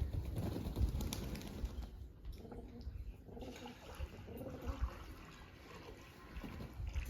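Pigeons being washed with poured water: trickling and splashing water mixed with soft wing flutters and the low coos of pigeons nearby, moderately faint, with no talking.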